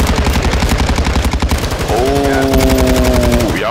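Rapid machine-gun fire crackles in an online shooter game, with loud, steady repeated bursts running throughout and a brief rising electronic tone near the end.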